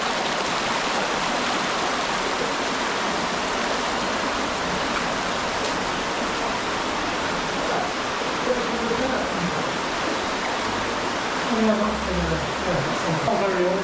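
The Moss Brook rushes through an underground Edwardian flood defence chamber, a loud continuous roar of flowing water with a voice talking over it.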